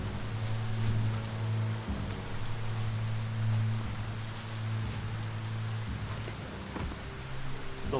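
Steady rain pours in the video game Biomutant, an even broadband hiss of drops on surfaces, with a low sustained hum running beneath it the whole time.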